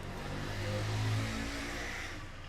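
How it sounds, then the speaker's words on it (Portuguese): Motorcycles passing by outside, an engine drone that swells and fades over a couple of seconds, moderately loud with no talk. "As motos passarem."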